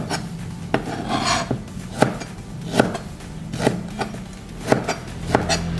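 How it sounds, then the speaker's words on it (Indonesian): Knife chopping tomatoes into irregular pieces on a cutting board, a string of sharp, fairly even taps about twice a second with soft scraping in between, close and clear. "Tomatnya dipotong tuh, tak beraturan."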